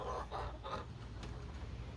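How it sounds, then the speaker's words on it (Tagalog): A hen clucks in a few quick, soft bursts, faint and somewhat distant against a low background hum. "Yung isa putak ng putak."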